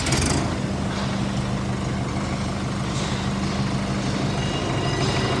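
A Preet 6049 tractor engine rumbles steadily nearby with a low, throbbing idle that holds constant throughout, with no voices.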